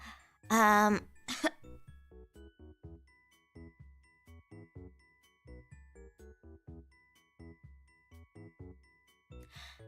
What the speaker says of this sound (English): Having a chronic cough when you're a streamer.